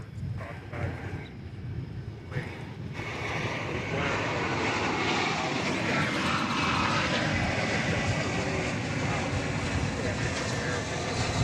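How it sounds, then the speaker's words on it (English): An American Airlines Airbus A321 arriving from Phoenix at DFW Airport, its jet engine noise swelling from a quieter start into a sustained loud roar, with talk in the background early on. "It's American Flight 1112 coming in from Phoenix, Arizona. At the end of the day, An Airbus A321."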